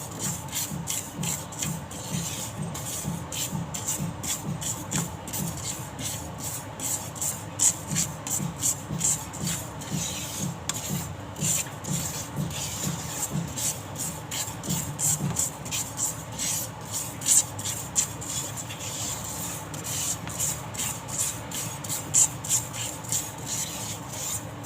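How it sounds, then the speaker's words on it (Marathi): Sesame seeds roast in a pan, stirred with a steady rhythmic scraping and rustling that runs continuously at moderate volume, close by, with no talk. "हे तीळ भाजून घेते."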